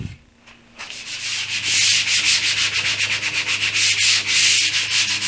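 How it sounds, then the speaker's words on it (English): An epoxy and plywood coffee table gets its final sanding, a loud, continuous abrasive rubbing in quick rhythmic strokes that starts after a short quiet moment. "I'm doing my final sand."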